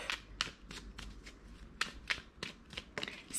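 A tarot card is drawn after a brief shuffle, giving quiet, close, papery snaps and slides in irregular bursts with no talking.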